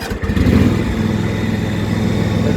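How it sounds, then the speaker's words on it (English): A John Deere garden tractor engine catches and runs, a loud, steady mid-pitched motor drone that swells briefly at the start and then settles into a constant close-up rumble, with no voices. "I'll take y'all on a ride in my garden tractor."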